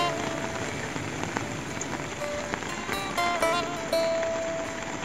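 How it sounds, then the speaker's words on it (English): Steady rain from a rainstorm in Albania patters densely on surfaces nearby, a constant wash with a few sharper drips. "Just from this rainstorm, it's quite a bit."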